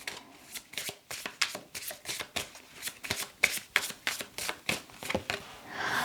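Tarot cards being shuffled by hand, close up, in a steady run of crisp riffling bursts that repeat about twice a second, ending in a brief longer ruffle.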